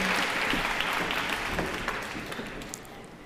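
Audience applause at a 25th anniversary celebration speech, steady dense clapping from a crowd filling the room throughout, fading slightly toward the end.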